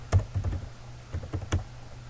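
Typing on a computer keyboard into a notepad file: a short burst of quick, close key taps in an irregular rhythm, with a few louder strokes standing out.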